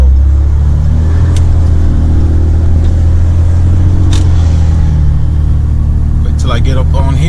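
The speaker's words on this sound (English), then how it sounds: "Good sounding turbo." A Cummins 6.7 diesel pickup fitted with a Smeding S369 SXE turbo accelerates, its deep engine rumble steady and loud with turbo whine rising toward the end, heard from inside the cab.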